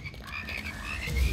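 Frogs croak in the video game Immortal Redneck, a short run of repeated throaty croaks that is fairly loud and steady, with no voices over it.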